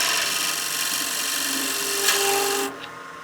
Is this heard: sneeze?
no